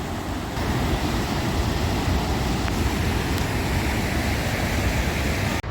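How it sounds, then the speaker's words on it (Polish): Rhine Falls waterfall in Switzerland, seen from an upper viewing level, fills the scene with a continuous, loud, broadband roar of crashing water that stays steady throughout, with no speech. "I to jest ten wodospad, który widzieliście z dołu."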